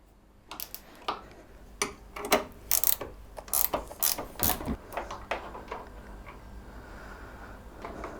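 A 13mm spanner ratchets bolts loose on a Rover Metro door, a run of sharp metallic clicks and clunks in irregular bursts, close and fairly loud, settling into quieter handling at the end.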